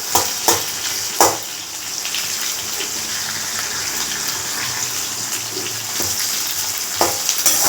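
Two large onions sautéing in a pan for masala dosa filling, a steady broad sizzle running throughout with several sharp clatters of stirring near the start and end, close and fairly loud, no talking.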